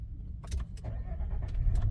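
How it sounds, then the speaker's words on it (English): A truck engine starts and settles into a steady low idle close by, with brief cranking bursts early on and a continuous rumble through the short stretch, parked beside an open Faraday box. "truck fires right up, just like that."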